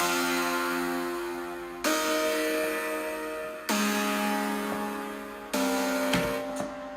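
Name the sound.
synth chords split across Spire synths in FL Studio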